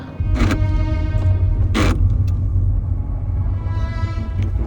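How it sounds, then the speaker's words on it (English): Faulty motorbike gearbox on a ride in Africa, heard as a loud, close, steady mechanical rumble and drone with two brief harsh grinding bursts near the start. "the sounds that my gearbox makes are absolutely horrible"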